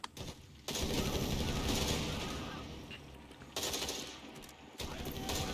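An aircraft strafing run in Company of Heroes 3 hits a machine gun position, loud rattling bursts of rapid gunfire that cut in and out with short gaps between them.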